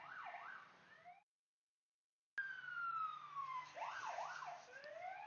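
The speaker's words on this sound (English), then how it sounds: "Police cars outside, lots of action happening here." Police car sirens wail outside, a rising-and-falling yelp with sweeping tones, cut off briefly by a gap before returning loud and close.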